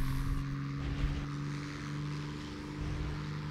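A level 1 F2 propeller plane in a video game drones steadily, its engine hum close and constant with no talk over it.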